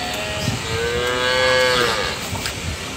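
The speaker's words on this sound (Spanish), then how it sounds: "Podemos encontrar lo que son las vaquitas que están en la parte de allá, que son las verdaderas vacas lecheras." Dairy cows moo on a farm, one long drawn-out bovine call rising and falling over about two seconds, fairly close, over a low outdoor background with no speech.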